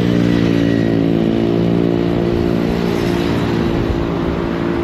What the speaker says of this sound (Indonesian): Ya, lihat motor-motor ngebut,